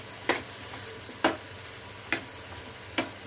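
Cabbage frying in a pan for a cabbage fry curry, with a steady sizzle under four or five sharp scraping stirs spaced about a second apart, close and moderately loud, no voices.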